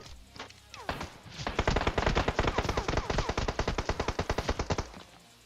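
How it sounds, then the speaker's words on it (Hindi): Rapid automatic gunfire in the battle royale video game PUBG Mobile, a long sustained burst of evenly spaced loud shots lasting several seconds, preceded by a few scattered single shots, with no talking over it. "गोलियां पड़ती अचानक से।"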